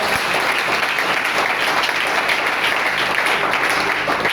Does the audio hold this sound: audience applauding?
yes